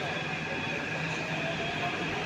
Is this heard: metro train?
yes